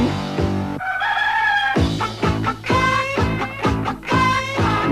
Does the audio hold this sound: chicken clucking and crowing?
yes